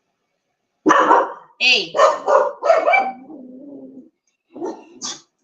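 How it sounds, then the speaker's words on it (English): Onyx the dog barks in a burst of loud, close barks and yips with a drawn-out whine between them, and a person speaks briefly over the noise. "Onyx has been barking all doggone day"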